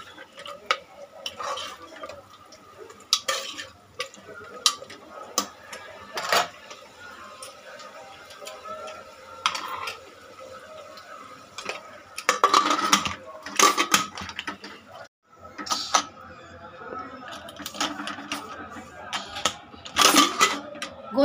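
Mutton being fried and stirred in a pressure cooker pot, with intermittent scraping and clattering bursts from stirring over a low background sizzle.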